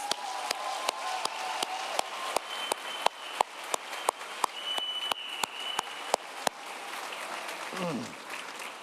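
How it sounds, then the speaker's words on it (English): An audience at a 2023 high school graduation claps for two retiring teachers, with a dense wash of applause and a few sharp, loud claps standing out near the microphone before it fades out. "Could we give them one round of applause?"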